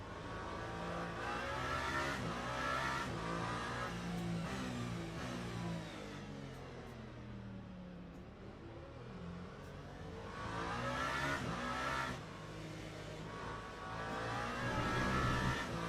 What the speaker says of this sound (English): Gosh, I can hear that car behind me.